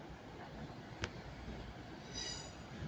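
A train at Manchester Piccadilly station rolls past with a continuous rail rumble, a sharp metallic click, then a high wheel squeal rising near the end, with no talk over it.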